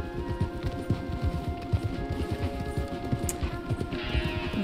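Horses gallop along a trail in Red Dead Redemption II, their hooves drumming in a steady, rapid rhythm that is close and continuous, with faint tack jingling overhead.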